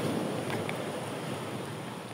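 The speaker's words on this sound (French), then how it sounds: "C'est ici que ça fait du bruit les vagues." Waves break on a beach on Marie-Galante, facing a small islet, as a continuous broad roar of surf and wind that stays steady and fairly loud throughout.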